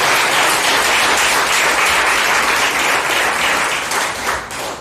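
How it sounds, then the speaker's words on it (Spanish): A church congregation bursts into loud, sustained applause, dense clapping from many hands that carries on evenly before tapering slightly at the end. "yo exijo un aplauso para el Señor Jesucristo"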